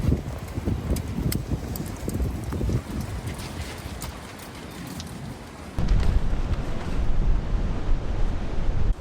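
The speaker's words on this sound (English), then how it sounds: "the thing here today is that it is super windy" Strong wind gusts buffet the microphone at a campsite during a storm with heavy rain, a loud rumbling roar that rises and falls and grows heavier partway through, with no voices.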